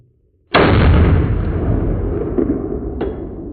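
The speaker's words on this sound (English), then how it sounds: "Okay, shoot the pistol out of his hand." A single loud, close gunshot at an outdoor gun range, a sharp blast followed by a long rolling echo that fades slowly, with no talk.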